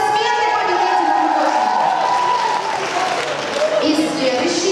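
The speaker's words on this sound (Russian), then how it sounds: "Аплодисменты победителям!" An audience at the Shibuya 22 2016 awards ceremony claps for the winners. The dense, steady applause runs throughout, with a voice or music sounding over it.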